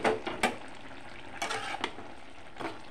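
Fried salted hilsa fish heads dropped into a pot and covered, with steady sizzling from the pot and several sharp clanks and scrapes of utensils against metal, no talk.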